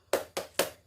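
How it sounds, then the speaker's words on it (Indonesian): An elementary second-grade class does a tepuk semangat spirit clap: three sharp, close hand claps in an even, quick rhythm, fairly quiet, with no talking. "Kita tepuk semangat dulu yuk sebelum belajar"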